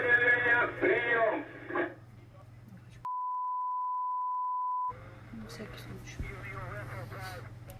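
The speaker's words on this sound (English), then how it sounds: "I love how they beep it" A steady, loud single-tone censor beep lasts about two seconds, cutting into speech that is heard before and after it.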